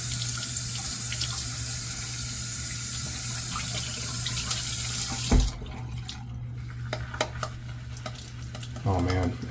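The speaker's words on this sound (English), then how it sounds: "So, get the brush wet." Shaving brush held under a running bathroom water tap, a steady broadband rush of flowing water for about five seconds, then quieter with small splashes and drips before the flow briefly swells again near the end.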